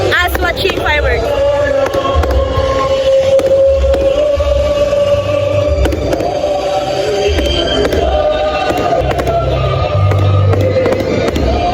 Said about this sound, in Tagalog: As watching fireworks.